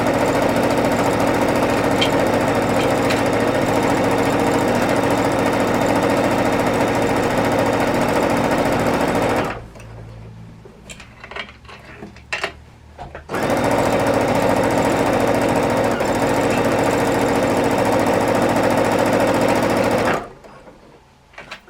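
A sewing machine runs stitching a quilt seam, its steady motor buzz and rapid needle clatter going continuously for about ten seconds, pausing for a few seconds of quiet handling, then resuming for another long run.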